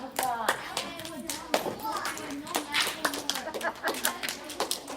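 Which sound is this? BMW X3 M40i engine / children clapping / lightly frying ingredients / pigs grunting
children clapping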